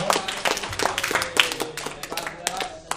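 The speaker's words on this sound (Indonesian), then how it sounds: "Sekali lagi kali tepuk tangan ya buat Bapak Prasetyo." An audience claps for a contestant at a speech competition at a convention, a loose scatter of sharp hand claps mixed with an announcer talking over them.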